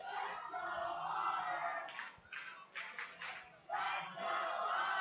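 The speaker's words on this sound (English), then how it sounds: "Crowd gets loud again." A baseball crowd at an Evansville Otters versus Mississippi Mud Monsters game swells into a loud, sustained roar, briefly broken by a few rhythmic clap-like bursts before the cheering surges back.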